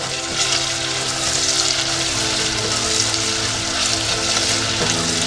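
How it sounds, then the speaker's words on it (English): Cashew nuts and onion frying together in a pan, a steady close sizzle with constant crackling and bubbling that holds level throughout, with no voices. "Onion nicely cooked. Cashew nut is fried."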